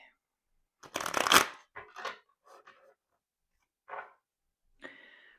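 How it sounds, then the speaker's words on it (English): Cards riffle in one quick burst, then come a few shorter snaps and rustles of a deck being handled, close and fairly quiet. "I'm gonna go ahead and shuffle and cut the deck in 3/3."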